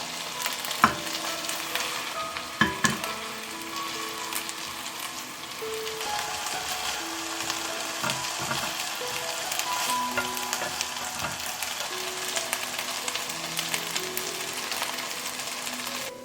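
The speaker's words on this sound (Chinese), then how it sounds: "我们就小火慢煎" Homemade potato and chicken nuggets, small squares, pan-fry slowly over low heat with a steady soft sizzle and occasional clicks of a utensil. A low hum runs underneath.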